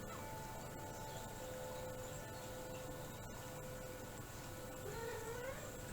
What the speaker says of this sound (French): Mon chat vous répond.